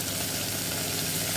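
Potatoes go into a pan of onions already frying, giving a close, steady sizzle with a faint hum that holds evenly throughout.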